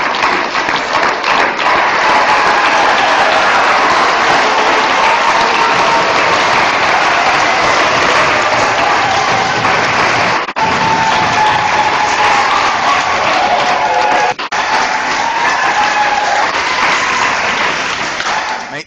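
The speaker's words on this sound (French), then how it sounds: "tout le monde s'applaudit" Theatre festival audience applauding together, a loud, dense, sustained wash of clapping that carries on without a break and holds steady until the end.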